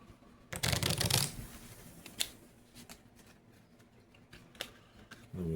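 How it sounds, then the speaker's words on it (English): Close up, a deck of cards is riffle-shuffled in one loud, rapid burst of fluttering, followed by scattered soft taps and card clicks as the deck is squared, with a final brief rustle. "we're going to go ahead and shuffle this"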